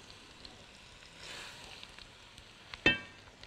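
Onions and rice crackle softly in a hot frying pot for a seafood rice dish. A brief swirl of stirring is followed by a sharp scrape of the spoon against the pot.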